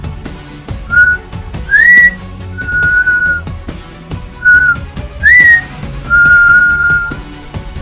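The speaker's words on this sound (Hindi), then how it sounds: "ये येतीज़ उनको महसूस कर लेते हैं और एक विसल जैसी आवाज़ करते हैं" Whistle-like calls said to come from yetis in a remote valley: short rising and level tonal whistles repeated in pairs, fairly loud over a dense background of other sound, with no talking.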